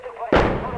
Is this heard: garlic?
no